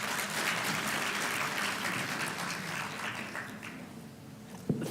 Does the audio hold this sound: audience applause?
yes